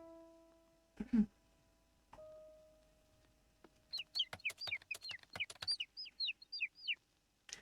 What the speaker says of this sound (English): I'm going to wait for the tweeting to finish before I talk